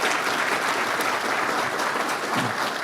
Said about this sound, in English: how about a round of applause for everybody who made that happen?